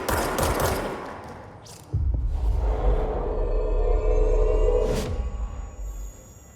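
Bursts of gunfire in the action video game Control, a dense rattling volley at the start, then a heavy low rumble and further sharp shots with a whooshing burst near the end.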